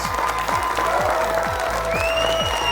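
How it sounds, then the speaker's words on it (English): A crowd at a high school quiz show claps and cheers loudly and continuously. Its enthusiastic applause fills the space without a break, with a few higher tonal sounds drifting over it. "The crowd goes wild."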